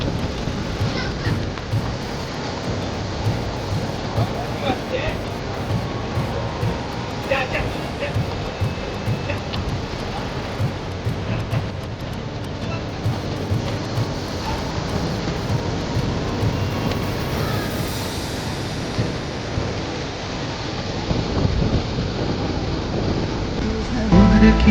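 Sea waves wash onto a beach in a steady, fairly loud roar with gusting wind noise on the microphone throughout.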